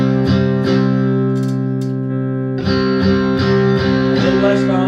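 An electric guitar with a Strat tone played through a Kemper amp with a distortion effect rings out in sustained chords, a couple of picked strokes, a brief pause, then renewed strumming, loud and close with no talking.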